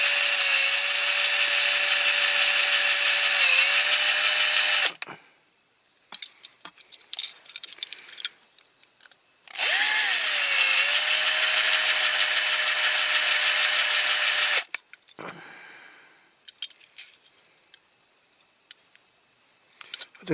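A power drill whines steadily in two long bursts while drilling out the rivets of a Dinky Toys Ford Fordor Sedan die-cast model, with quieter clicks and handling noises between.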